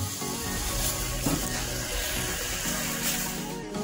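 Chili paste for Medan-style anchovy sambal frying in hot oil, a steady close crackling sizzle with occasional stirring scrapes and bumps throughout.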